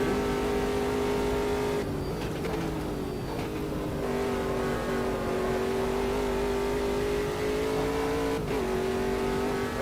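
A Brabham race car engine in the racing game Automobilista 2 holds a loud, steady high-pitched drone at near-constant revs, with brief dips as gears shift and a faint tire scrub, continuous throughout.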